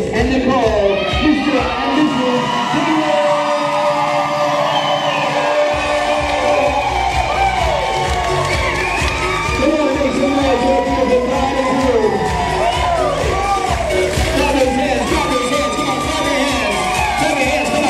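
Wedding guests at a reception cheer, whoop and clap loudly for the newlyweds, a dense continuous crowd roar with shouted voices rising over a DJ's amplified announcement and music.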